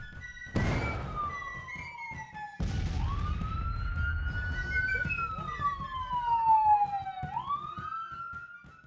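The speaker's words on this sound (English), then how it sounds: "Apologize for those sirens." Police sirens pass by outside a house, heard from indoors: a wailing tone sweeping slowly up and down, jumping twice with sharp restarts, growing louder as it nears and then fading.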